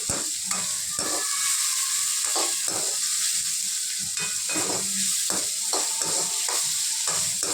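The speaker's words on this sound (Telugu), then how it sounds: "ఒక 10 మినిట్స్ వరకు ఆనియన్ని వండిస్తాం ఆయిల్లో." Onions frying in oil with a little salt for a potato masala gravy, giving a steady close sizzle broken by repeated scraping stirs of a spoon in the pan, with no talking.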